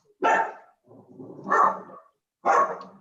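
A dog barks three times in loud, separate bursts about a second apart, close by, with no one talking.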